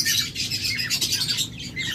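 Fischer's lovebirds, a green pair and an olive pair kept at a bird farm, give rapid, shrill squawking chirps close by, with calls overlapping continuously.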